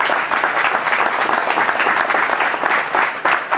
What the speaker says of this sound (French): je crois qu'on peut l'applaudir même si vous le connaissez